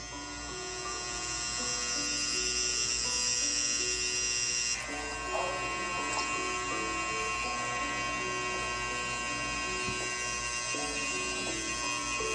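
An Andis electric hair clipper hums and buzzes steadily up close, its motor tone shifting slightly partway through, with faint background sounds underneath.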